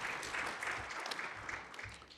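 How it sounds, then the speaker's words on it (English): Applause from an audience for panelists at the IACO 2021 annual meetings in Kigali, Rwanda, a faint and distant wash of hand clapping that continues without a break for two seconds. "Let's give them another hand of applause."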